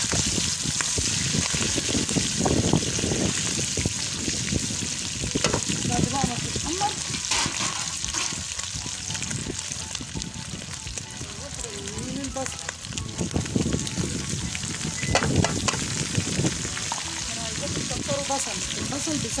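Cubes of meat browning in a pan for an Egyptian-style Chinese beef and zucchini dish, a steady broadband frying sizzle with occasional stirring clatter, running continuously at moderate loudness.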